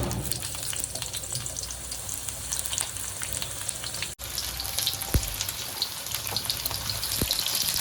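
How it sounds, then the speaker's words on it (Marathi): Onion fries in a spoonful of hot oil with black pepper, cloves, cardamom and bay leaf in a kadhai, a dense, constant close-up sizzle with a brief pause and occasional clinks, no talking. "मग घालणार आहे फोडणीला कांदा"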